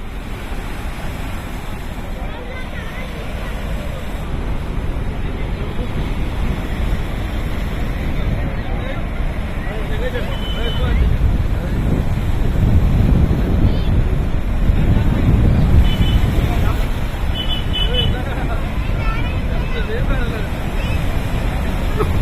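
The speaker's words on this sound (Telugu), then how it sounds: "గేట్లను ఎత్తి నీటిని దిగువకు వదిలారు అధికారులు" Water released through the opened gates of the Nagarjuna Sagar dam roars as a steady, loud broadband rush, swelling slightly midway, with wind buffeting the microphone throughout.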